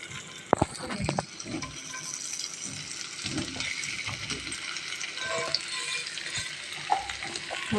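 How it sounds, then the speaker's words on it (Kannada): Paneer cubes, about 200 grams, frying in hot oil in a home kitchen, giving a steady close sizzle and crackle with occasional clinks and stirring knocks, without talking. "ಇವಾಗ ಇದನ್ನು ಎಣ್ಣೆಯಲ್ಲಿ ಹುರ್ಕೊಳ್ಳೋಣ."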